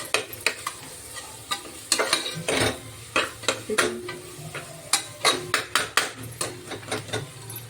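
Vegetables and masala frying in oil in a pan for biryani, with repeated stirring scrapes and clinks of a spoon against the pot over a steady low sizzle, close and moderately loud, with no talking.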